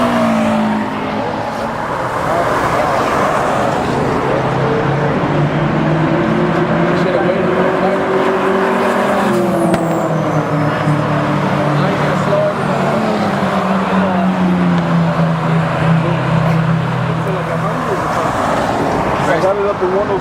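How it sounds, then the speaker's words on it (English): A supercharged car runs at speed on a race track, giving a loud, sustained engine roar with a high supercharger whine that rises and falls in pitch, while people talk over it. "I got it up to 106 and the supercharger is whining."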